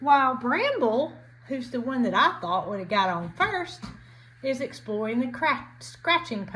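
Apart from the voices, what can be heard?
No everyday noise stands out behind the speech.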